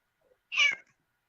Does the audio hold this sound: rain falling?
no